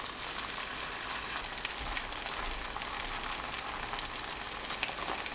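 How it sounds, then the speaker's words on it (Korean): Eggplant slices under buckwheat batter fry in oil in a pan over medium heat, giving a steady, close, crackling sizzle with scattered pops and no voices. "팬에 식용유 두르고 예열되면 중불로 낮추고 가지를 올려주세요"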